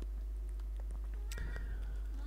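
A house cat meows a few times near the microphone, short bright calls rising out of a faint hum, with one stronger meow slightly past the midpoint.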